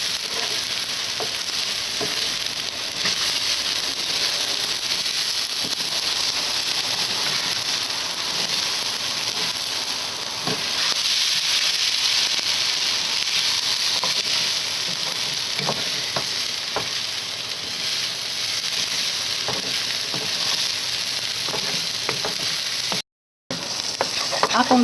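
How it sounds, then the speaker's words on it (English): Glutinous rice toasting and sautéing in a pan gives a continuous dense sizzle and hiss, with faint scraping stirs underneath. It stays close and steady throughout, then cuts out briefly near the end. "So we're now toasting the glutinous rice."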